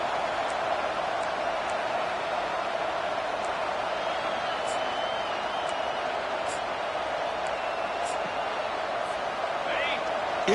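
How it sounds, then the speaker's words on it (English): A fired-up football stadium crowd roars as a dense, steady wall of noise for about ten seconds, with scattered whistles and shouts rising above it and no clear break. "this crowd is fired up. Listen to this noise here."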